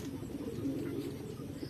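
Pigeons cooing in a loft, a low, steady murmur of overlapping coos running continuously at moderate volume with no talk.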